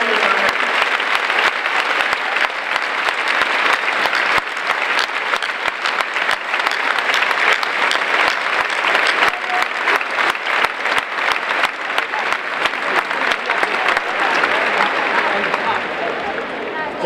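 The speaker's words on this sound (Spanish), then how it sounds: "un fuerte aplauso para ellos también." A huge stadium crowd at San Mamés applauds during a farewell ceremony, a loud, sustained roar of clapping that persists evenly across the whole stretch with a faint crowd murmur beneath.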